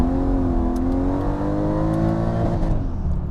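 A Mercedes CLK55 AMG with a 5-speed torque converter automatic accelerates hard to the rev limit, its engine note climbing loudly and steadily before bouncing off the limiter near the end, close and with no talk.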